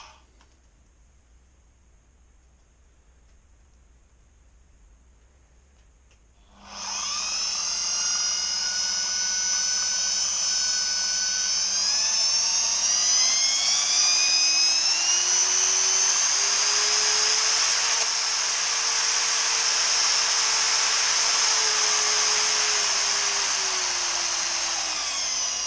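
A Mac Allister extendable giraffe drywall sander plugged into a vacuum cleaner starts after a quiet stretch, then runs with a steady, loud high-pitched whine and a low hum that rises slightly in pitch.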